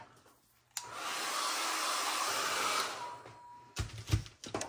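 A hair dryer blows steadily for about two seconds to dry a layer of paint in mixed media artwork, a constant close whoosh switching on and off sharply, then soft knocks and handling sounds.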